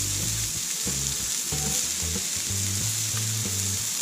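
Grouper fillets fry in butter and seasoning on a hot Blackstone griddle, blackening as they cook; a steady, close sizzle runs throughout with no talk over it.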